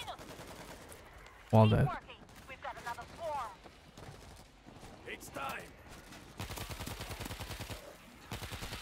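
Video game gunfire from a single-fire gun: one loud, sharp shot early on, then a later stretch of rapid repeated firing, with someone speaking briefly in between.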